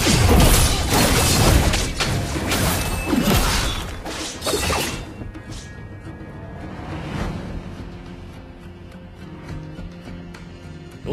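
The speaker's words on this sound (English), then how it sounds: "Your team destroyed a turret!" A turret is destroyed in the Mobile Legends mobile game, with a burst of shattering crashes, whooshes and booms for several seconds, then the noise drops away to quieter game ambience.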